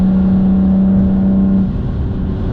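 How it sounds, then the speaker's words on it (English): Exhaust note of a BMW E46 M3 with the S54 engine, a loud, steady close-up drone that holds a constant pitch and then eases off slightly toward the end, with no voices. "this exhaust note is probably exactly what I think you would want from this car"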